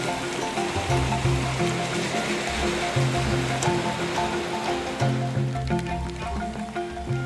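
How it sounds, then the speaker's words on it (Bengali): Heavy rain falls in the village of Panijhora, Alipurduar, making a dense, continuous roar of water that stays loud and steady throughout. "প্রচুর বৃষ্টি হচ্ছে"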